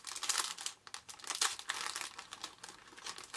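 Product packaging from a haul of mini metal dies and stickers being handled, giving close, quiet, irregular crinkling and rustling with brief tearing-like bursts, no voice.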